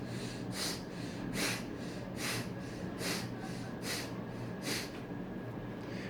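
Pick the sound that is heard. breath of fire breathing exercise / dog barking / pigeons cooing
breath of fire breathing exercise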